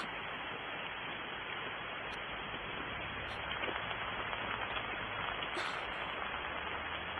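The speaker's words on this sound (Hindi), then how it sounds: "ओह, बारिश हो रही है।" Steady rain falling outside a home in a Korean drama dubbed into Hindi: a dense, even hiss of rain heard continuously and fairly loud, with no speech over it.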